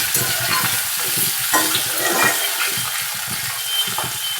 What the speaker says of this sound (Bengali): তো পেঁয়াজ দিয়ে ভালো করে আমি পেঁয়াজটা ভাজা ভাজা করে